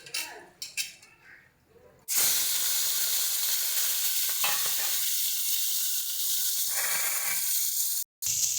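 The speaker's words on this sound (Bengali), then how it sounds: "তেলটা দিয়ে তেলটাকে ভালো মতন গরম করে নিয়ে আমরা মাছটা ভেজে নেব" Prawns drop into hot oil in a wok and burst into a loud, steady sizzle that holds for several seconds, coming after a few quieter kitchen clinks and cutting out briefly near the end.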